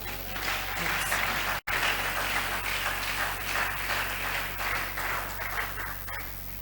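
A church congregation at a seminar service claps and applauds steadily for several seconds, a dense, sustained wash of hands with a brief cut partway through.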